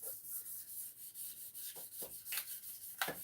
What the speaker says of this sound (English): Is really what I'm doing is just cleaning it with sandpaper.